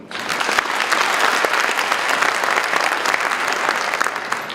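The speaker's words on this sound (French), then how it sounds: "que je vous demande d'applaudir" An audience at an international fair ceremony in Dakar breaks into loud, dense applause, many hands clapping close and steady for several seconds without any voices over it.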